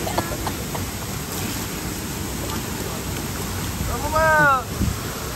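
The hidden Chander waterfall at Masure in the Konkan gives a steady, broad rush of falling water that fills the whole scene, and a person's voice cuts in briefly near the end.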